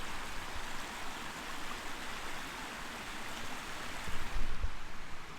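River water streaming and babbling steadily through woodland where a dog stops to drink, a continuous close broadband rush with a slightly louder surge near the end.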